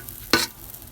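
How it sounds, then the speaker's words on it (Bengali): Rice frying with spices and green chili in a pan gets a single short, close scrape of a spoon over a soft background sizzle. "ভালোভাবে নেড়ে নিচ্ছি।"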